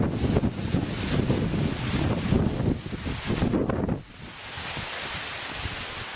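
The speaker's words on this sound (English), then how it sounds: "kind of windy out." Strong gusty wind buffets the microphone outdoors, roaring loudly for four seconds before easing into a steadier, softer rush.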